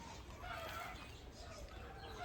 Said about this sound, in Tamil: கோழிங்க.